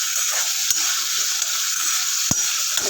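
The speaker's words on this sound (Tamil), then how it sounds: "நல்லா சவக்க வதக்கிடுங்க" Pirandai (adamant creeper) sautéing in a pan for chutney makes a dense, even sizzle, punctuated by a few sharp spatula knocks against the pan.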